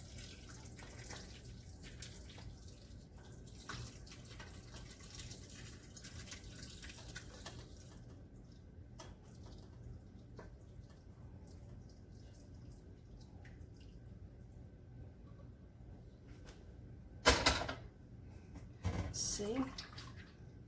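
Elderberries and their juice pour steadily through a strainer, a faint continuous trickle and drip, with a couple of louder splashes near the end and a person speaking briefly.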